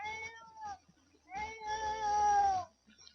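A cat in The Sims 4 yowls in long, drawn-out, wavering cries, one shorter call and then a longer sustained one, heard clearly and fairly close with no talk over it.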